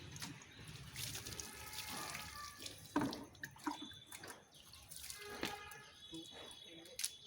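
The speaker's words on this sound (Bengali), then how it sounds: "আর এটা ধোয়া হবে, পরিষ্কার ধোয়া হবে।" Taro (gathi kochu) is washed under a running tap, a faint splashing trickle with clattering of the roots, quiet and uneven, mixed with a voice speaking nearby.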